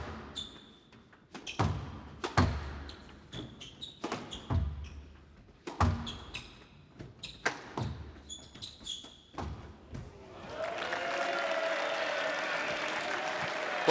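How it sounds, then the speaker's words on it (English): Crowd applause breaks out at a squash match at the Canary Wharf Classic, a sustained roar of clapping rising in the final seconds after a stretch of sharp ball thuds and court squeaks. "Well, you can hear the crowd."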